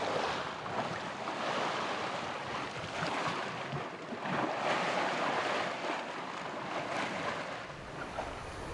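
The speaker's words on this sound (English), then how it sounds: "The wind has filled in now, so now the conditions are perfect beam reach." Wind and waves at sea aboard a sailing boat on the North Sea on a beam reach, a steady broad rush of water and wind noise swelling and easing with no talk.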